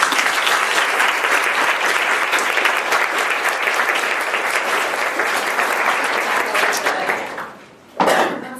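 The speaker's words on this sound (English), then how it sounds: "let's just give them a round of applause" An audience at a Women Who Code anniversary party applauds panelists with loud, dense, sustained clapping that fades near the end before a short burst of renewed clapping.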